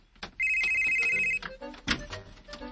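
A telephone rings once in a short electronic trill, followed by faint clattering and shuffling sounds nearby.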